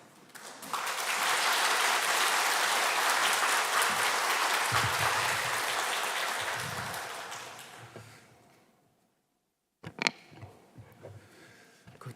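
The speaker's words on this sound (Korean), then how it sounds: "나오실 때 박수로 환영하시겠습니다" A church congregation at a Sunday devotional service applauds to welcome the guest pastor, sustained broadband clapping that fills the room for about eight seconds, then fades to silence before a few brief knocks and rustles.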